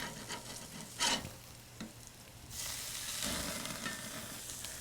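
A burger patty sizzles in a hot pan beside onions and bacon, a steady close hiss that surges louder and fuller after a quick scrape and thump around the flip.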